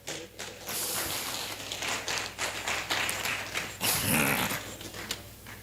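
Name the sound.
audience applause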